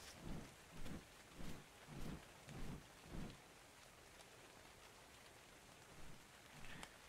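Rain and rolling thunder in ARK: Survival Evolved, a series of soft, evenly spaced deep rumbles over a steady rain hiss, fading into quieter rainfall with a couple of late rumbles.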